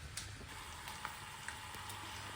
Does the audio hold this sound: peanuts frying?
yes